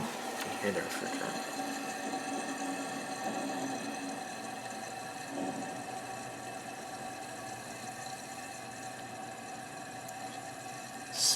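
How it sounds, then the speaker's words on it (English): Refrigeration compressor of a Signature/MW UFO-5123 air conditioner running with the fan shut down, a steady tonal hum with faint mechanical whine, fairly quiet and continuous throughout. "Hear the refrigerator."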